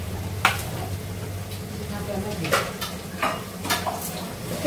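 Spice paste with small shrimp is stirred and fried in a pan. A spoon scrapes and knocks against the pan in several distinct clanks over a low sizzle, with a voice faintly present.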